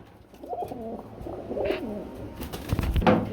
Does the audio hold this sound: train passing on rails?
no